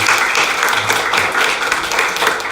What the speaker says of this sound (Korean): 우리 감사의 박수 우리 한번 이렇게 했으면 좋겠습니다